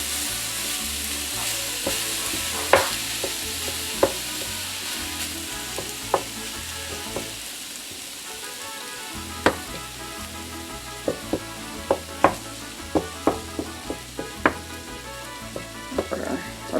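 Ground beef fries and sizzles in a pan, with a steady frying hiss and repeated clear scrapes and taps as it is stirred and broken up, close and alone without talk.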